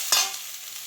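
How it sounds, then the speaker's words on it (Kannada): Okra frying in oil with rock salt in a pan gives a brief stirring scrape, then a steady soft sizzle that carries on alone. "ಚೆನ್ನಾಗಿ ಅಂಟಿಲ್ ಹೋಗೋ ತನಕ ಹುರ್ಕೊಂಬಿಡೋಣ."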